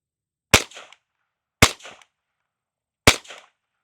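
Three single shots from a Marlin Model 70P rifle, each a sharp, loud crack followed by a short trailing echo, spaced about a second apart in otherwise silent surroundings.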